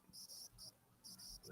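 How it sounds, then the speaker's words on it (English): Crickets chirp in two quick bursts of shrill pulses separated by a short pause, faint and fairly steady, with nothing else heard. "Sounds like crickets."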